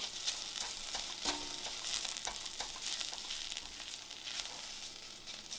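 Onions frying in a pan, a soft steady sizzle with faint crackles and occasional stirring, fairly quiet and alone.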